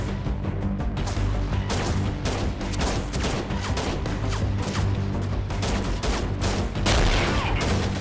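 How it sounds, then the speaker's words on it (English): Gunfire fills a firefight in the video game Freeman: Guerrilla Warfare, with continuous dense volleys of rapid shots and heavy booming reports crackling without pause. "There is someone shooting at me at the moment"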